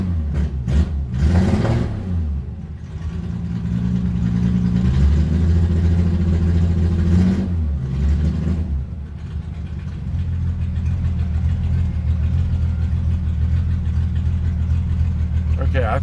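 A 1967 Triumph GT6 cranks and fires on a cold start, then settles into a loud, steady, rumbling idle heard up close, with a brief rev partway through.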